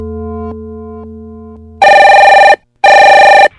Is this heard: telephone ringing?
yes